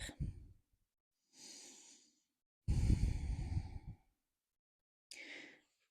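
Slow, deep breaths during a beginner stretching exercise: a strong exhale, then a soft inhale, a long heavy exhale and another short breath, close and clear with silence between.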